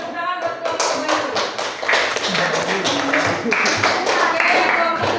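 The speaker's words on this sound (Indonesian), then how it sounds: "Tepuk tangan buat kelompok baru." A classroom of students claps for a new student group, a quick patter of many hands that comes close and fairly loud, with voices talking over and around it.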